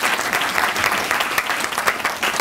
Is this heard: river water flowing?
no